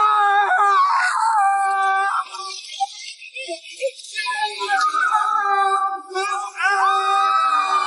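Someone screams in a long, loud, strained wail that breaks off briefly and then resumes at full force, with speech-like cries mixed in.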